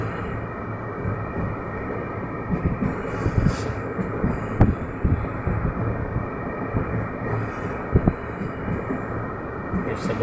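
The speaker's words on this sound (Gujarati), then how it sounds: "મહુવાથી ટ્રેન સુરત જઈ રહી છે ભાઈ." A passenger train runs from Mahuva to Surat, heard as a steady, moderately quiet rumble of wheels and carriage noise that continues throughout, with occasional small rattles and knocks.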